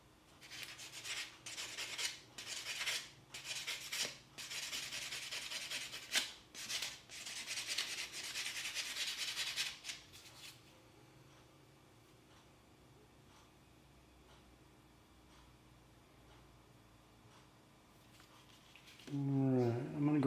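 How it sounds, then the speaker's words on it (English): A metal file rasps against a coin ring being shaped by hand, giving a rapid series of close, rhythmic scraping strokes for several seconds, then a long quiet stretch before a voice begins speaking at the end. "I may need to get a file onto it."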